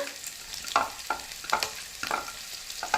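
Finely chopped ginger and garlic sizzle in a hot pan for a turnip, spinach and green pea saag, with a steady bright hiss broken by regular scraping strokes of a spoon stirring, close up, no talk.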